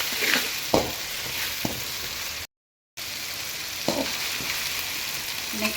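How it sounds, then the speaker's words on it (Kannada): Ginger garlic paste and tomatoes sizzle and fry in a pan for pepper chicken, a steady close crackle broken by occasional stirring scrapes and one brief silent gap. "ಹಾಕ್ಬಿಟ್ಟು ಇದನ್ನು ಕೂಡ ಮಿಕ್ಸ್ ಮಾಡಿ ಒಂದು ಟೈಮು"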